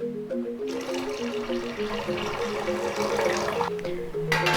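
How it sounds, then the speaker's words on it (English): Water pours steadily into a steamer while Indonesian sticky rice lemper is being steamed, a continuous splashing fill with a short pause before the flow resumes and grows louder at the end. "I add more water into the steamer"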